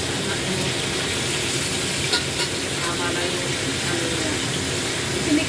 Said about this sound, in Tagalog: Sarap mag-prito sa frying pan.